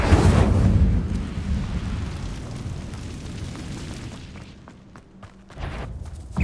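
A fire spell cast in Hogwarts Legacy on PS5: a loud burst of rushing, crackling flame at the start that roars steadily and slowly fades over several seconds, with a second flare right at the end.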